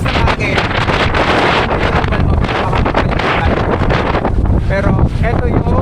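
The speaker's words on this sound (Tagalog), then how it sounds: "Sobrang lakas ng hangin." Strong wind buffets the microphone at the top of a rock formation on Biri Island at dawn. The gusting roar and rumble is loud and continuous throughout, with faint rustling underneath.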